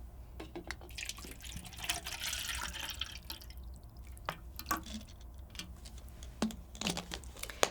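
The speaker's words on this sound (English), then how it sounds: "we are going to fill our clear container halfway with water" Water pours into a clear container, with soft trickling, dripping and splashing, quiet and close, with occasional sharper clicks.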